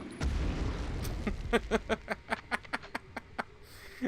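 A grenade blast in the Medal of Honor video game: a loud low boom at the start, followed by a rapid string of sharp cracking gunfire pops.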